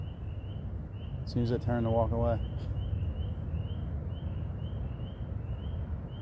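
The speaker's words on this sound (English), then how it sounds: "I hear spring peepers and other ones, and yeah, they almost sound like they're birds" Spring peeper frogs calling in a woodland sanctuary: a thin, steady, high-pitched chorus carries on faintly in the distance throughout, while a person speaks briefly nearby.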